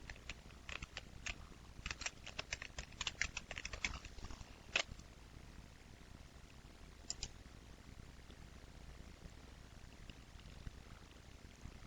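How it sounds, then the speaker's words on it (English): Light clicking keystrokes in quick bursts for the first few seconds, then a couple of isolated taps over a faint steady hum. "one can test the layout by clicking in the box and typing some text."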